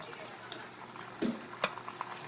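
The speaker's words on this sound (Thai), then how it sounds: "ใส่ น้ำมะขามเปียกนะคะ แล้วก็เคี่ยวต่อไปนะคะ" Tamarind sauce simmering in a pan gives a soft, continuous bubbling and sizzling, broken by a few brief clinks and stirring noises, while someone talks over it.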